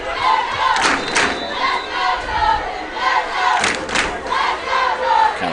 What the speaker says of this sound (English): Let the crowd tell the story right now. You hear them getting fired up below us.